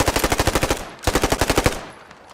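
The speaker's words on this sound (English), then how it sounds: "I was shooting at the wrong bunker" Gunfire in the Post Scriptum video game, two loud, close bursts of rapid automatic shots in an even, steady rhythm, separated by a brief gap and trailing off into an echoing decay.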